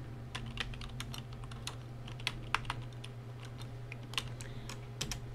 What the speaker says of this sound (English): So I'll type it again.